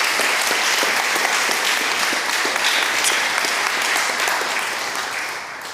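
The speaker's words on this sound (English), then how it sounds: "So final applause for today" A conference audience applauds at the close of a day of talks on sustainable software development, a dense, steady wash of many hands clapping that fades slightly at the end, with no talking.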